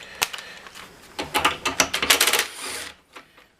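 A 3/8 ratchet turns a 10 mm socket, with quick bursts of metallic clicking at close range, a brief tap first, then a dense run of clicks that fades out.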